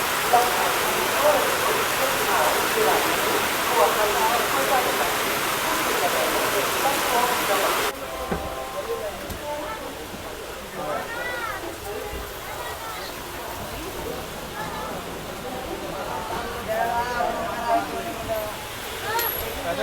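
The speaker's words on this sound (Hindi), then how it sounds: "मुरादाबाद में बारिश हो रही है, गजब की बारिश हो रही है।" Dense, steady rush of heavy rain in Moradabad, heard from a moving train, loud and continuous, with the hiss thinning slightly partway through; faint voices murmur underneath.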